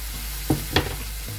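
Kofta biryani masala being stirred and mixed in a pot, with two quick scraping strokes of a spoon over a low steady background, no voices.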